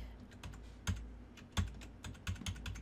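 Keyboard shortcuts are tapped on a computer keyboard while working in Tinkercad, a scattered series of quiet close key clicks with a few sharper presses and no talk.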